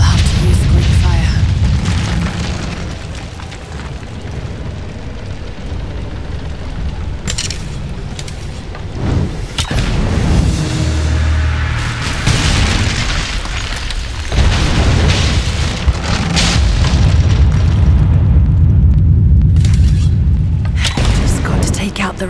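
Greek fire explosions from Rise of the Tomb Raider, heavy booming blasts and rumbling debris around an unstable statue, loud and sustained across the scene with someone talking over parts of it.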